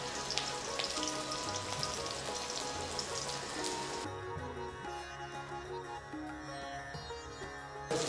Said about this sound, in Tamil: சின்ன வெங்காயம் கட் பண்ணி வச்சுருக்கோம், போடுறோம்.